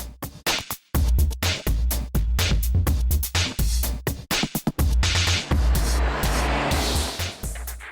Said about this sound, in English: This is a Mazda MX-5.